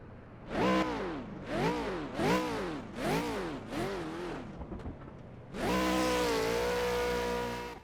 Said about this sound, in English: from the outside view the car sounds a little bit more brutal.